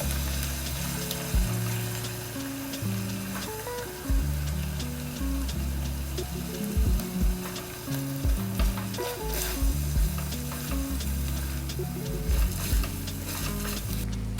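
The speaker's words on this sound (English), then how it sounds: "To my meat sauce mixture, I'm going to go ahead and add some crushed tomatoes." Meat sauce with wine and crushed tomatoes sizzles and bubbles in a pan while being stirred, a loud, steady frying hiss with occasional scraping clatters, no talk.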